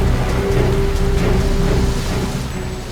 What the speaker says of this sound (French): Mince, mais quel déluge!